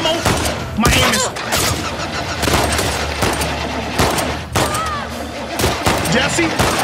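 Rapid gunfire bursts from a shooter in The Last of Us Part II crack out in repeated volleys over a dense, busy combat mix, loud and close, with a voice talking over part of it.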